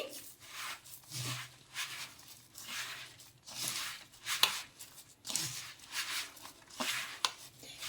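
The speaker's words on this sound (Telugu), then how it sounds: "ఇలా బాగా చేత్తో మొత్తం కూడా కలిసేలాగా కలిపేసుకోవాలి" Homemade biscuit dough being mixed and pressed by hand with sugar, producing soft, rhythmic rubbing and squishing strokes, close and quiet, with no speech.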